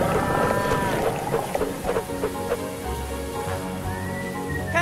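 A distressed cartoon cow moos, a loud drawn-out bellow followed by a second rising moo at the end, over steady noisy background sounds.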